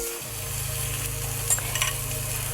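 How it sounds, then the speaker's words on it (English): Meat dropped into a skillet preheated to medium heat, settling into a steady close sizzle with a low hum beneath and a couple of brief pops, no talk. "Preheat your skillet to a medium heat and drop your meat in."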